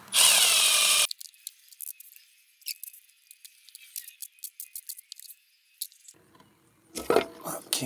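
Power tool spinning off 10mm bolts on a flood-damaged Corvette, with a loud whirring burst at the start, then a stretch of small metallic clicks and rattles, and a rougher burst of handling noise at the end.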